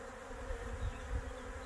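Honey bees buzz steadily at a sugar-syrup feeding station, a continuous close drone with slight swells in loudness and no voices.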